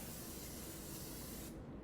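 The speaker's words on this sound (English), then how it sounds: "You want to take some cooking spray, and you're gonna spray just a little bit" A short, steady hiss of an aerosol cooking spray can onto a pizza pan, close up, lasting under two seconds before cutting off.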